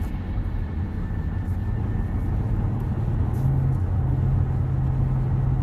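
A 2015 Dodge Caravan with a surging and stalling problem climbs a hill from inside the cabin, its steady low engine and road drone holding throughout and the engine note rising and firming partway through as it downshifts.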